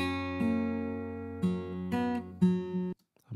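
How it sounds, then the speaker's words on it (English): A short recorded guitar phrase played back in Ableton Live, a few sustained plucked notes changing roughly every half second, slightly loose in timing, clean and close, ending abruptly in silence. "And I found this little bit of guitar that I recorded."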